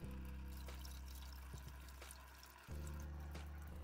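Coolant draining from the water pump area of a Ford 3.5 or 3.7-liter V6 in a 2012-19 Explorer, a steady close trickle and splash of liquid that briefly thins, then returns at full strength.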